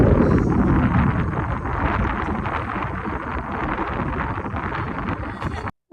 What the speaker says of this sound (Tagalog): At sobrang lakas nga ng hangin dito.